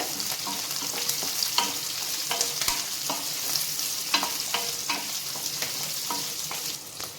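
Sliced onions frying in a pan for capsicum chutney, with a steady close sizzle broken by frequent scraping stirs at a fairly even pace.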